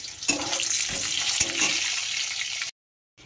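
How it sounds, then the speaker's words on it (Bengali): An egg frying in hot oil in a home kitchen gives a loud, steady sizzle with a few sharp crackles and pops, running close and continuous before cutting off abruptly into silence. "ডিমটা ভেজে নিই আমি আগে"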